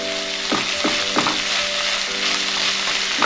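Garlic and green onion sautéing in ghee, a steady close sizzle with a few scraping stirs of a spatula against the pan.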